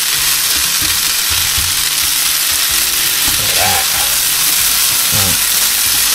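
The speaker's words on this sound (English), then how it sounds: "So the onions have been frying first" Steady, loud sizzling of onions frying in a hot pan with cardamom and cloves, a constant crackling hiss with occasional clinks of stirring.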